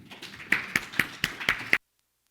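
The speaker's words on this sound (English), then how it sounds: "let's give a round of applause for our first speaker this afternoon" Audience applause welcoming a speaker at a grassland initiative meeting, a short burst of about six loud distinct claps that stops abruptly into silence.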